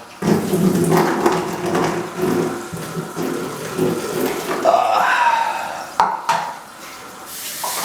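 Water runs from a sink faucet in a home bathroom, splashing and gurgling with uneven surges, fairly close and loud, with some voices faintly present.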